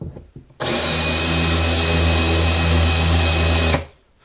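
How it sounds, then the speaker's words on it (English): A power drill with a countersink bit cuts into the bridge holes of a Martin HD-28 acoustic guitar, a steady loud whine lasting about three seconds before stopping. "I kind of wobble it around a little bit so that I can see, I get a nice countersink on it"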